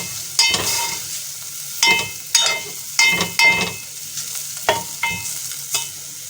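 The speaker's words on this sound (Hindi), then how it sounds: "उसमें हम चिकन डाल देंगे और अब चिकन को अच्छी तरह से फ्राई करेंगे।" Chicken pieces fry in a tablespoon of oil in a pot, a steady sizzle running throughout. Sharp clattering stirs from a utensil scraping the pot break in at irregular intervals, close and fairly loud, with no talking.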